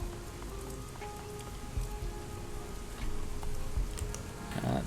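Rain falling on surfaces in a neon-lit cyberpunk video game city, a steady patter with scattered ticking drops and a faint hum underneath, even and close with no voices.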